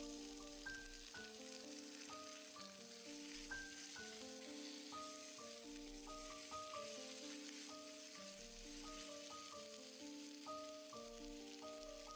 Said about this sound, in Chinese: 倒入切好的圆葱丝， 炒软炒香以后倒入包菜